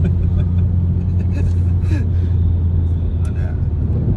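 A BMW M235i drives along a toll road with a steady, loud low engine and road rumble throughout, while people talk inside the cabin over it.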